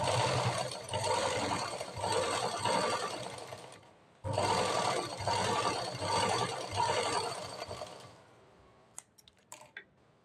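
A sewing machine stitches a blouse at the neck area in two loud, rapid whirring runs separated by a short pause, ending with a few faint clicks and handling sounds.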